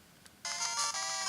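Double Dragon game sound from a retro handheld console (Cool Baby RS-97): a brief, bright chiptune-style burst of bleeping tones, faint and close, with no speech.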